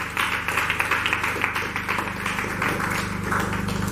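Audience applause at a Congolese girls' school competition, a steady patter of clapping over a low hum, moderately loud and continuous with no speech.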